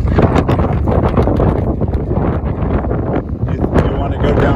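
Strong wind roaring near an approaching tornado, steady loud gusting noise buffeting the microphone throughout, with people talking under it.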